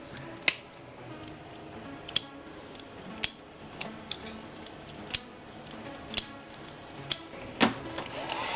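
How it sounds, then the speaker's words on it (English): Cutters snip through the wires of a car wiring harness during a sequential fuel injector upgrade on a Toyota 7M-GTE engine, giving about a dozen sharp, close clicks at an irregular pace with no talking. "I'm just gonna chop all the wires back to there."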